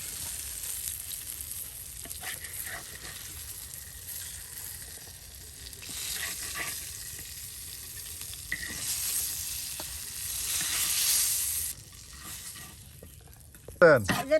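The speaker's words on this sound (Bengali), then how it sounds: "এই মাছটি ভাজি টাকি মাছ ভেজে নেবেন" Taki fish frying in oil in a village kitchen on a winter morning, a steady sizzle through most of the stretch, with a burst of louder clattering near the end and no talk.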